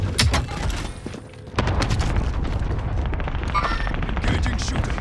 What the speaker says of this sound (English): I heard shooting, huh?